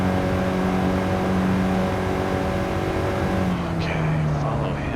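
Inside a 2026 Honda Prelude hybrid on a California highway, a steady engine drone with tonal harmonics holds, then the pitch dips slightly as the revs ease, set against road and wind noise.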